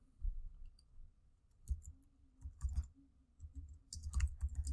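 Sparse, quiet clicks of computer keys as a course name is typed, coming in short irregular bursts with pauses between them.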